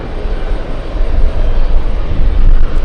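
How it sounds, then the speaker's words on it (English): A JetBlue jet airliner roars loudly and steadily as it takes off at JFK airport. The broad, rumbling engine noise swells a little toward the end, with no voices. "Efren is telling us it's a JetBlue flight at 3:30 takeoff time."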